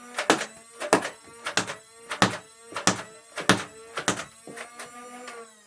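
Phoenix Nerf blaster firing a rapid series of about a dozen sharp mechanical thunks in an irregular, quick rhythm, close and clear with no talking.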